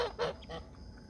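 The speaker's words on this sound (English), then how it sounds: "Are you being loud, geese?" Geese honk loudly up close, two or three harsh, nasal calls in quick succession followed by softer grunts.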